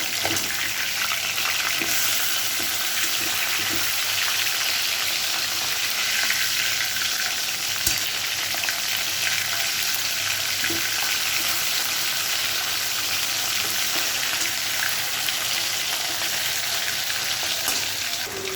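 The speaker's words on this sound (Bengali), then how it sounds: "মাছগুলো ভাজা হয়ে গেছে, এবার আমি এক এক করে তুলে নেবো" Pieces of hilsa fish frying in a pan, a steady loud sizzle and crackle of oil that runs without pause, with faint scrapes now and then and no talking.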